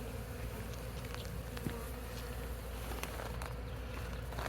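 A swarm of bees hums around a log outdoors, a faint, steady buzzing drone with scattered louder passes of individual insects close by.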